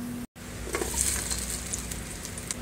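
A fried raisin mixture for sheer khurma is tipped into milk. After a momentary break, a continuous close hiss and sizzle rises and then settles into a steady, moderate bubbling.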